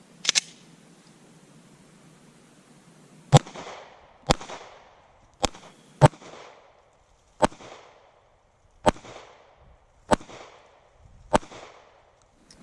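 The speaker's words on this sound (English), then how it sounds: "we fired 5 shots with the rifle, 5 shots with the pistol" A rifle and a pistol are fired at a homemade target, producing about nine sharp, loud, evenly spaced shots, each followed by a short echoing decay, separated by quiet gaps.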